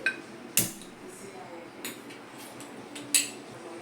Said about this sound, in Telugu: స్టవ్ ఆన్ చేసి కడాయి పెట్టుకోవాలి